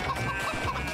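A chicken clucking in the video game Moving Out, a few short clucks in quick succession, close and fairly clear over a steady game background.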